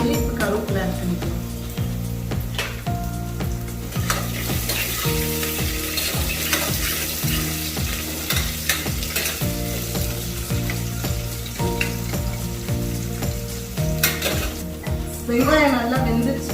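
Onions and curry leaves sizzle and crackle steadily in hot oil for a chickpea gravy, with occasional stirring scrapes and a continuous frying hiss throughout.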